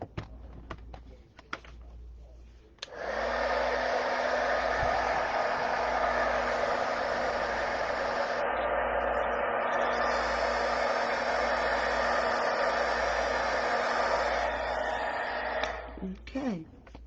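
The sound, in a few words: heat gun drying watercolor stamping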